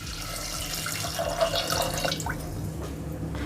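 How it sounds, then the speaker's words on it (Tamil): Water runs and splashes steadily into a cooking pot of chana masala gravy for a few seconds, then tapers off into quieter trickling and faint drips. "இப்போ இது வேக வைக்கிற அளவுக்கு கொஞ்சம் தண்ணி சேர்த்துக்கலாம்."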